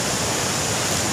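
Gunung Banteng waterfall in the Kalimantan forest roars as a steady, dense rush of falling water, loud and unbroken.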